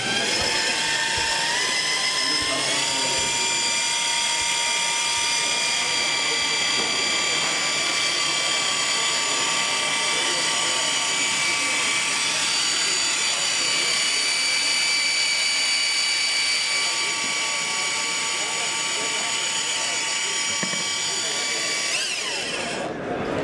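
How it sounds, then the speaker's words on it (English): A variable-speed triple gear reduction drill stirs a bucket of drywall mud, its motor whining loud and steady from start to a brief stop near the end. "triple gear reduction drill, variable speed. Let's mix a little mud."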